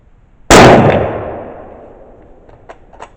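A 1942 Turkish Mauser rifle fires a full metal jacket round into a headlight, giving a single sharp, loud crack. The shot rings out and decays slowly, followed by a few faint clinks.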